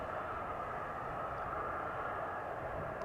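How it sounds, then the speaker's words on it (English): A distant turboprop aircraft drones as a steady, even engine hum near Amsterdam Schiphol Airport, faint and constant throughout with no other sounds standing out. "I think I hear a turboprop somewhere"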